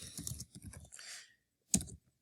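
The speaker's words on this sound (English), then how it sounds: "you can easily type any type of question in here" Computer keyboard being typed on to enter a question into a library chat box, a short quiet burst of key taps, a pause, then one louder keystroke.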